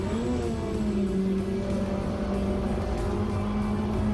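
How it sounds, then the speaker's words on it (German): A Lamborghini race car on the Lausitzring during a PRTC qualifying race sounds out with a loud, sustained engine drone that shifts slightly in pitch as it moves, close and dominant. "Der Lambo, der da vorbei schießt."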